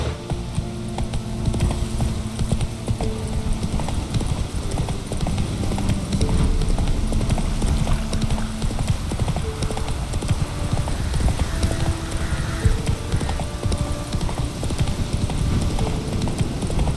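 Roach, the horse in The Witcher 3, gallops steadily with rapid clip-clop hoofbeats for the whole stretch, close and loud over a low outdoor rumble, with no speech.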